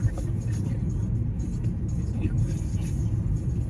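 Steady low engine rumble and road noise from inside a moving car, continuous and even throughout with no distinct events.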